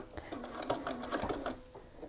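A sewing machine stitches across a shirt collar, giving a quick run of rapid, evenly spaced mechanical clicks that stays close and fairly quiet.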